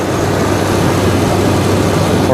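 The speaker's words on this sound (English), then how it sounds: "Engine sounds great." A Chevy S-10 pickup truck engine idles with a steady, low rumbling drone, close and continuous throughout, with no speech over it.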